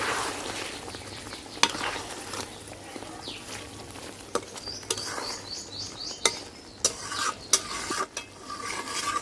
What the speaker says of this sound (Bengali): মশলাটা একটু হালকা মিশিয়ে নেব।